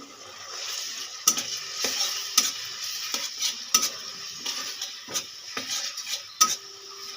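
Chopped green chili and ginger-garlic paste frying in a pan for Bengali pabda fish curry, a steady sizzle broken by repeated sharp clinks and scrapes of a spatula against the pan.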